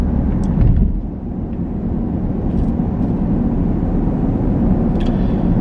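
Steady low road rumble and engine drone inside a moving car, loud and continuous throughout with faint high clicks, no talking.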